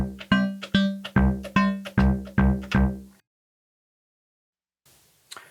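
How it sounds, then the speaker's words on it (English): Elektron Digitone FM synth patch with random sample and hold: seven evenly spaced plucked notes, each with a different metallic timbre and a quick decay, followed by silence and a faint final blip. "So every time I play a note, it sounds completely different."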